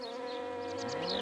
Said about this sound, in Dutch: zijn hier, zoemde Bij